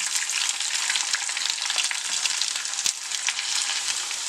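Chicken pieces frying uncovered in coconut oil, a constant bright sizzle with crackling pops, loud and close and with no voices over it.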